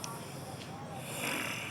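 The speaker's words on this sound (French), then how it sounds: "C'est lui qui ronfle comme ça." A person snores with a faint, rasping, breathy drone, low in level and mixed with some background hiss, continuing steadily for a moment.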